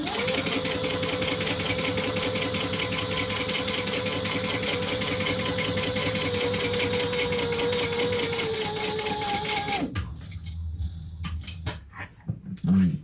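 A sewing machine top stitching leather runs steadily and loudly for about ten seconds with a fast, even mechanical rhythm, then stops, leaving faint handling noises.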